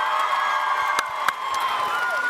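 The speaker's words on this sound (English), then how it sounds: "So few things get a round of applause for he's a terrible person." A packed TwitchCon panel audience at a Dream SMP reunion cheers and applauds: a dense, sustained roar of whoops and shouts, with a couple of sharp louder bursts cutting through the steady crowd noise.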